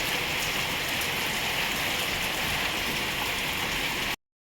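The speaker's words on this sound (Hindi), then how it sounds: "बहुत तेज बारिश हो रही है" Heavy rain falling hard and steadily, a dense close hiss of drops on surfaces that cuts off abruptly at the end.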